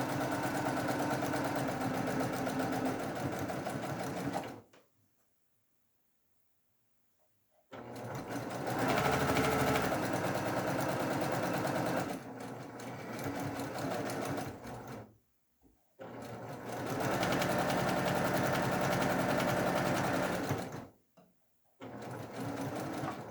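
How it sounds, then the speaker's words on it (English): Sewing machine stitching a sashing strip onto quilt rows, running in steady whirring bursts of several seconds with short silent pauses between runs, close and even. "I'll just sew that sashing strip on"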